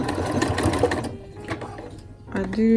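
A sewing machine stitches a seam on a simple skirt, running in a steady buzzing burst that stops, then starts again briefly near the end, with a voice talking over parts of it.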